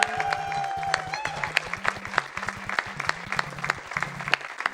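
An audience at a NES shuffler race, a charity speedrunning event, applauds the winners with steady, dense clapping over electronic game music.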